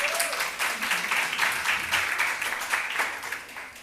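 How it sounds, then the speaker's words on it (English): An audience at a university faculty Women's Day event breaks into warm, sustained applause, many hands clapping close and loud before slowly tapering off, with a voice faintly heard at the start. "Give yourselves a round of applause."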